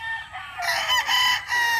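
A gamefowl rooster crows close and loud in one drawn-out, wavering cock-a-doodle-doo that lasts nearly two seconds, with no talk over it.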